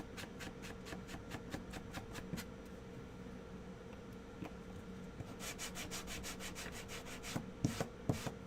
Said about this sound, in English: Sanding is a thing I absolutely love to do.